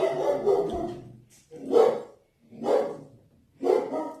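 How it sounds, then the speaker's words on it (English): A dog barks in a home, three or four loud, separate barks spaced about a second apart, with a rougher, longer bark opening the run and no voices over them. "Excuse my dog."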